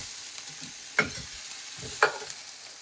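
Crisp-fried idli in a pan give a steady quiet sizzle, with two distinct scraping stir strokes about a second apart; no voices.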